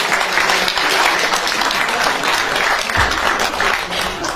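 Theatre audience at a jubilee evening breaking into loud, dense applause, a sustained wash of many hands clapping together with no speech over it.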